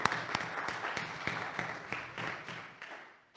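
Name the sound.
church congregation applause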